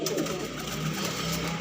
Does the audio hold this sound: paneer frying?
no